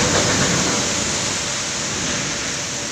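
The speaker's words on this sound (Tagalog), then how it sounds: "Malakas pa ang ulan." Heavy rain pours in a steady, dense hiss that stays even throughout, with no talking over it.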